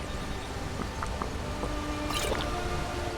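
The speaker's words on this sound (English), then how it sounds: "Fill up my water skin." Water skin being filled at water in the video game Skyrim, soft drips and squishy splashes over a constant dense background, with a brighter splash burst near the end.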